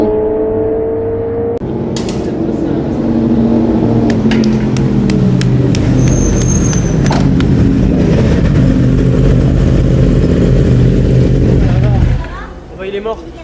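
A pack of race vehicles roars past on the Valencia circuit in Spain, with loud sustained engine noise that rises and falls as they go by. People talk over it, and the noise drops away sharply at the end.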